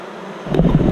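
Honey bees hum around a hive in searing heat, a soft drone that swells abruptly into a louder, closer buzzing burst within a single second.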